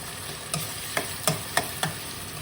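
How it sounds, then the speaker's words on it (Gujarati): Kaju gathiya curry mixture with ginger paste being sautéed in a pan, a spoon stirring in five evenly spaced scrapes over a soft steady sizzle, close and moderately quiet. "અને હવે આને 1 મિનિટ માટે થોડીક સાતળી લઈશ."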